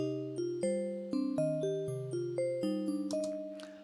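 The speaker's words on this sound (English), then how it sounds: "something like this bell sound that has like a nice transient to it" A synthesized bell patch in Ableton Live plays a stepped melodic sequence of about a dozen notes, each with a sharp percussive attack and a ringing decay. The tone is bright and clean and stays moderately quiet, with no other sounds.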